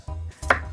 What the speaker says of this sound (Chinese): 那个要顺刀块的切，滚刀块